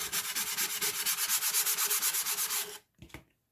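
Sandpaper rubbed back and forth over a wooden cigar box in quick, even strokes, close and loud, stopping abruptly with a couple of soft knocks afterward.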